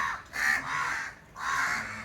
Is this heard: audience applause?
no